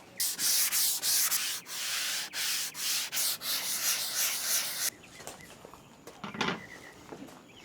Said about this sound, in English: I'll give these a super light sand and then a wipe down.